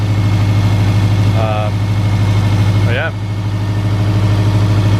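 A 2018 Subaru WRX STI engine idles steadily right after a new Process West manifold install, a constant low rumble throughout with someone talking briefly over it.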